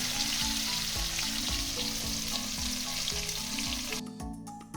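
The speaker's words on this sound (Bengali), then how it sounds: "দুটো ব্যাচে ভাজব একবারে এতগুলো ভেন্ডি ভাজা হবে না" Okra (bhindi) sizzles steadily in hot oil in a kadai, a loud continuous frying hiss that runs the whole time with no talk, thinning out slightly near the end.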